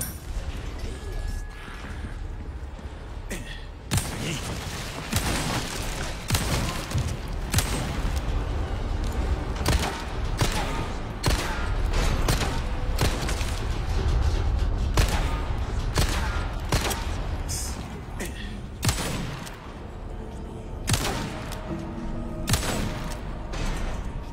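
Gunfire in the Resident Evil 4 Remake video game: repeated loud shots and bursts over continuous rumbling game noise, with a person speaking at times.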